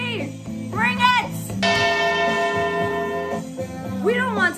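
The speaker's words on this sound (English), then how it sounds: "Ring the bell, baby! Ring it!" A bell rings with a sustained, resonant metallic tone lasting a couple of seconds, set amid energetic, excited speech from a man in a lively talk show.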